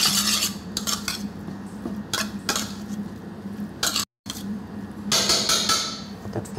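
Flower vinegar and chive oil being mixed together for a char tartare, with a steady run of utensil scrapes and clinks against a bowl, briefly interrupted by a short silence before the stirring resumes.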